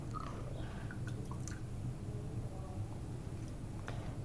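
Water rinsing salt out of lab glassware, faint and close: soft sloshing and gurgling with small drips and squishy splashes over a low background hum.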